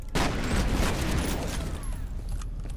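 Grenade blast followed by sustained gunfire in the shooter F.E.A.R., a dense continuous barrage of loud shots and rumbling impacts filling nearly three seconds without any voices.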